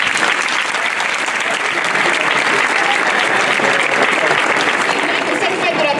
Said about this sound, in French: vous pouvez vraiment l'applaudir